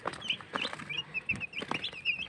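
Cobb 500 broiler chicks peeping while drinking, a steady run of high, thin chirps repeated close by over soft scuffling and light clatter.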